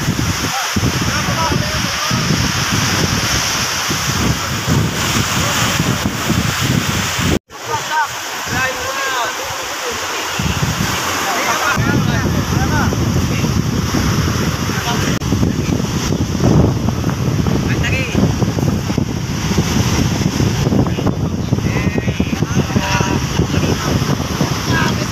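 Strong wind roars and buffets over rushing water at sea during net fishing from a boat, loud and continuous, with a voice talking beneath it and a brief dropout midway.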